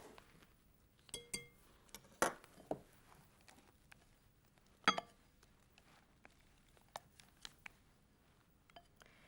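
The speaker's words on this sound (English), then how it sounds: "I'm going to stir it in to my custard." A utensil stirs slack whipped cream into custard in a bowl, giving faint, scattered clinks and taps against the bowl between quiet soft sounds, with a few sharper knocks.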